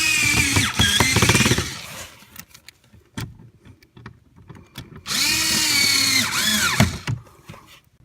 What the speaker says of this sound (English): put our two Phillips screws in